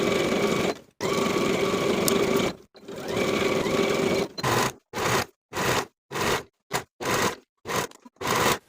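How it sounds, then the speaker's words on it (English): A sewing machine sews the main seam of a linen dress hem facing, first in long steady runs, then in a series of short, evenly spaced bursts, close and loud with no talking. "Once I've sewn the main seam, I'll finish the raw edges of my hem facing all the way around."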